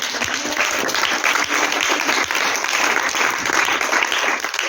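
A church congregation applauds the Lord with loud, continuous clapping that fills the room at an even intensity throughout, with faint crowd voices mixed in.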